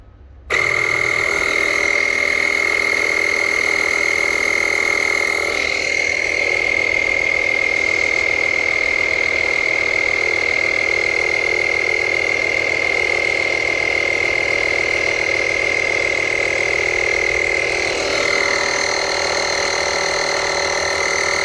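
A Lokithor JA301 jump starter's built-in air compressor pumps up a fire extinguisher, running as a loud, steady, close mechanical drone with a strong whine that holds nearly unchanged for about twenty seconds.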